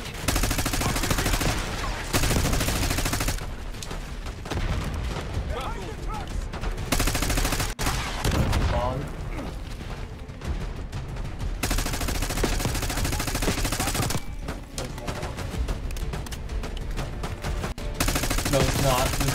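Dense gunfire in the Call of Duty: Black Ops 6 campaign, with loud overlapping bursts and automatic fire coming from several directions, alongside blasts and game effects that continue across the whole stretch.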